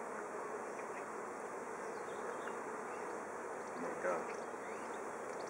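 Honeybees buzz steadily and up close at an open hive during an inspection with capped queen cells, a dense continuous hum throughout, with a person briefly speaking over it.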